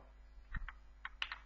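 A few scattered key presses on a computer keyboard, soft, close and irregular, while someone types text into a form in a coding setup, with no talk over them.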